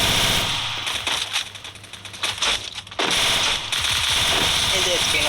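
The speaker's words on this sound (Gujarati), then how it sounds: "બે શોટગન ના હેડશોટ પડલા છે." Rapid bursts of gunfire in the mobile shooter Free Fire MAX, including shotgun blasts, crackle loudly in a dense, continuous stream with brief lulls, while a player's voice talks over the action.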